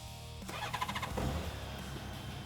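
A Honda Goldwing trike engine cranks and catches after a tonal hum, a brief starter whir giving way to a settling, smooth idle close by.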